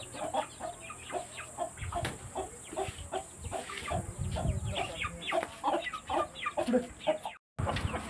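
An Aseel hen, a fighting breed, moving about with her chicks clucks in quick, repeated short notes, close and fairly loud, with soft background rustling throughout.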